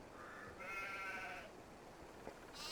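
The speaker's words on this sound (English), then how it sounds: "There are considerably more sheep than there were yesterday" Sheep bleat in the video game Farming Simulator 22, a few quiet drawn-out calls overlapping one another on a farm, faint and with no talking.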